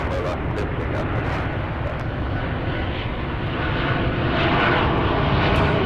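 A plane taking off at Los Angeles International Airport gives a steady, loud engine roar that swells slightly toward the end, with no talk over it.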